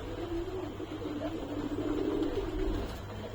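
Pigeons in a rooftop pigeon house coo continuously in low, rolling, overlapping calls, fairly close, over a faint steady background hum.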